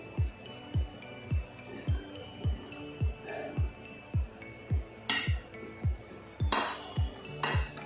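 Fried paneer cubes being stirred into gravy in a pan, with a steady rhythm of clinking spoon strikes against the metal, about two per second, and a few brighter scraping bursts near the end.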